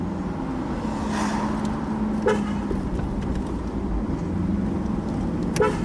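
A 2002 Jaguar XK8's engine and exhaust hum steadily and close by at a low rumbling pitch, with a few brief higher sounds that could be horns or passing traffic.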